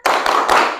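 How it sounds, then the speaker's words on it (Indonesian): Schoolchildren in a classroom clap their hands together in a short rhythmic cheer clap, two or three quick loud bursts in under a second, close and without talk. "kita tepuk semangat terlebih dahulu ya"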